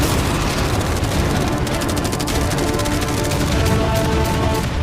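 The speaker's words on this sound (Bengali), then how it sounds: "অনেক ফায়ারওয়ার্কস, অ্যারো এবং ক্যাটারপুলস, এই সব একসাথে তোমার ইয়টের দিকে এখন ছোড়া হবে।" Machine guns, cannons and fireworks firing at a yacht in a large staged contest make a dense, loud barrage of rapid cracks and booms that continues without pause.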